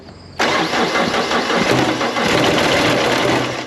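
A cold Kubota tractor engine cranks and catches after a brief quiet moment, then runs loud and rough at a steady idle close by.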